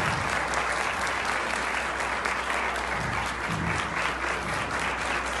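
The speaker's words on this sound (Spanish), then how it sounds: "si pensaba hacer un aplauso al final, quiero que sea todavía por mi papá" An audience at an Iberoamerican orthodontics congress applauds the speaker's father, a dense, sustained clapping that fills the hall evenly and steadily throughout.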